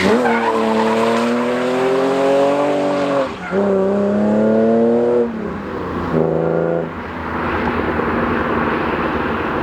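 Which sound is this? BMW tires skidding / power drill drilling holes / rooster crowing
BMW tires skidding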